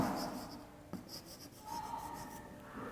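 Chalk or marker scratches across a classroom board in short, faint strokes and rubbing passes, with quiet room hum and no talking.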